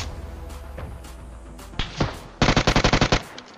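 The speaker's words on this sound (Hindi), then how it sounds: "सामने मेरे बंदे लैंड कर रहे थे तो मैं UMP से फायर देता हूँ।" UMP submachine gun fired in the mobile battle royale game BGMI: a short burst, a pause, then a rapid run of about ten sharp, loud shots in quick even rhythm, with faint game sounds before.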